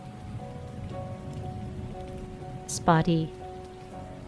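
Steady rain patters on surfaces in WILL: A Wonderful World, a soft continuous wash heard under a brief spoken word and a short tonal chime.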